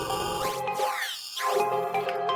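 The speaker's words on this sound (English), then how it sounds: "crush," Crush sound color effect on an AlphaTheta XDJ-AZ DJ system, distorting and bitcrushing a music track with gritty, sweeping tonal smears and a brief dip in the middle, steady and fairly loud.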